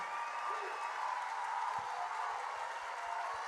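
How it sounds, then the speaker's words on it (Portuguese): A conference audience at a state cities conference in Rio de Janeiro gives a round of applause, a faint, steady spread of many hands clapping heard from a distance in a large hall. "Uma salva de palmas para o capitão Nelson."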